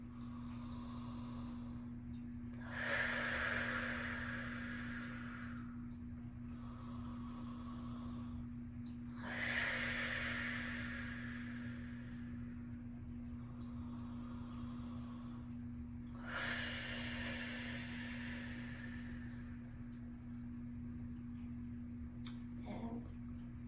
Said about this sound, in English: Let's just take some deep breaths in through the nose.